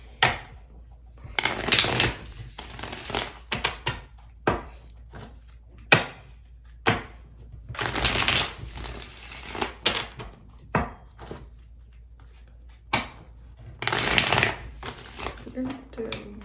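Oracle cards being shuffled and pulled into three positions, giving soft papery riffles, crinkles and taps in irregular bursts, close by, with quiet gaps between handling sounds.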